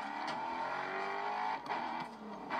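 Race cars in the GRID Autosport video game roar past with a steady, loud engine drone, and a few brief surges suggest acceleration or cars passing.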